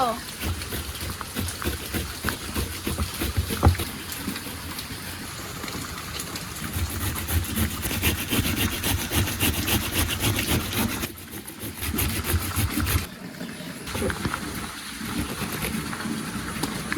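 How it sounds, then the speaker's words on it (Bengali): An electric kitchen machine finely shreds bottle gourd, making a dense, steady grinding whir that runs almost the whole time, with brief dips in intensity partway through. "এবার এই মেশিন দিয়ে লাউগুলা সুন্দর মতন কুচি কুচি করে নেব"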